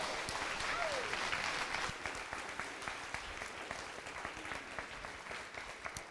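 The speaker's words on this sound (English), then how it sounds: "So I would like to give a big, big round of applause to all the volunteers." Audience applause for volunteers at a FIRST Tech Challenge Silicon Forest League robotics tournament, a dense, sustained clapping from a large crowd heard from a distance, slowly thinning toward the end.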